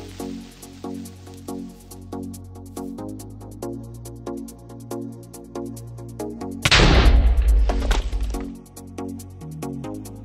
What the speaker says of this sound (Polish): Teraz pokażę jak on wybucha.